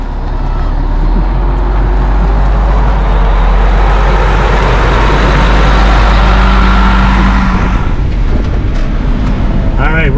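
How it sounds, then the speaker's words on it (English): Interior of a bus on the road, named Magnolia and driven for the first time, with a loud steady low engine drone and road rumble that holds throughout and eases slightly near the end, people talking over it. "You're driving a bus."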